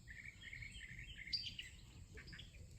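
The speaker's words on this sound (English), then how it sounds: "there's all kinds of birds around here, which you can hear" Wild birds chirp outdoors near a home, with overlapping high calls and tweets running steadily throughout, fairly faint over a low background rumble.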